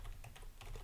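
Someone types a password on a computer keyboard while setting up CentOS Stream, producing a quick run of soft, close key clicks at a low level, with no voices.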